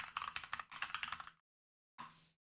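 A file name is typed on a computer keyboard: a quick run of close key clicks, a brief pause, then a short final burst of keystrokes.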